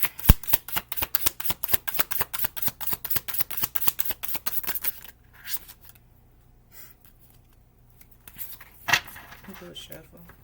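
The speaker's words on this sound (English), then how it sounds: "Do a shuffle." Tarot cards being shuffled by hand, a quick run of rhythmic riffling snaps for about five seconds, then a few softer card handling sounds and a faint bump, close and clear.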